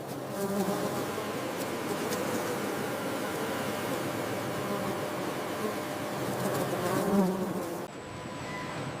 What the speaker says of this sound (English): thousands of worker bees labor instinctively